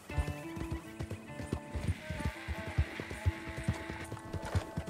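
Steady clip-clopping of horse hooves in a regular trotting rhythm from the video game Red Dead Redemption 2, close and fairly loud, with a brief whinny and a low background hum.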